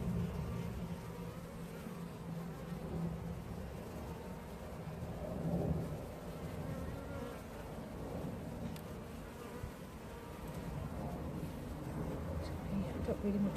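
A low, steady hum of many honey bees buzzing close by at an open hive, continuous and droning, with faint rustling and a soft voice now and then underneath.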